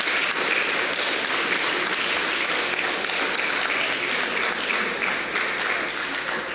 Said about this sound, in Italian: direi un bel applauso anche per tutti i volontari